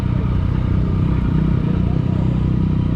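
Motorcycle engine idling steadily at a bike show, a continuous low throbbing rumble that sits close and loud the whole time with no voices over it.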